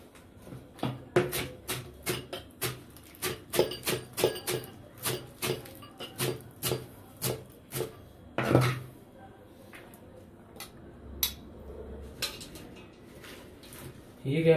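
A knife chops fresh spinach (palak) for daal palak on a board in a home kitchen, making a run of crisp, evenly spaced taps that thin out and pause partway before a few scattered cuts resume.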